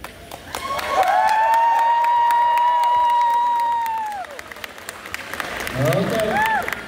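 A crowd at a Christmas dance contest cheers and claps for the first dancer, with long rising whistles and shouts over the clapping, swelling loud then easing before more whoops near the end.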